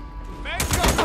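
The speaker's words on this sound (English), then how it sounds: "Gunfire. Try to avoid gunfire." Gunfire in the video game Days Gone, a short burst of sharp rapid shots erupting suddenly after a quieter stretch of game sound.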